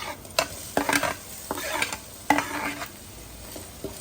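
Onions fry in a pan for a Nellore fish curry, a soft sizzle under a series of sharp scraping stirs spaced about half a second apart, fairly quiet and close, with no talk.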